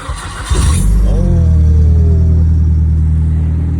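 A Nissan SR20 engine in a drift car cranks and catches, then settles into a loud, steady, deep rumble close by, held in neutral.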